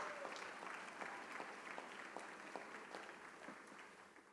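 An audience at a women-in-leadership awards event gives a sustained round of applause, heard as a steady, even wash of many hands clapping that softens slightly toward the end, with no talk over it.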